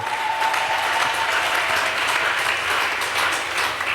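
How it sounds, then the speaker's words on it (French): A church congregation applauding for Jesus during a sermon, steady dense clapping filling the room at a constant loud level throughout, with no pause. "Est-ce que tu peux acclamer pour Jésus-Christ?"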